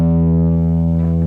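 A sustained, buzzing distorted electric guitar tone through an amp plugin with the input level pushed rings out steadily, thick and saturated with a faint shimmer near the end.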